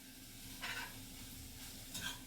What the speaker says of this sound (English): we're just going to give this a quick stir to mix those onions up into the mixture